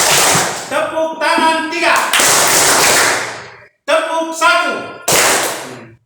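A group plays a call-and-response clapping game, chanting counts in Indonesian and answering with short bursts of sharp hand claps separated by pauses, voices prominent between the claps.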